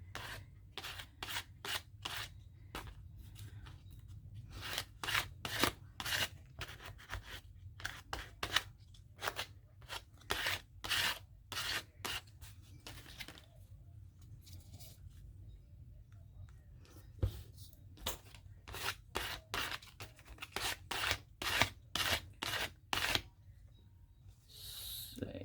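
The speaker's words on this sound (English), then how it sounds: "I cut in here and I cut through here." Scissors cut paper for a collage in a quiet room, making soft, close snips and rustles. They come in irregular bursts of quick strokes with brief pauses between them.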